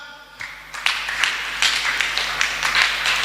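A church congregation claps in acclaim during a Sunday service, a dense crowd of hand claps that swells after a quiet start and continues steadily throughout.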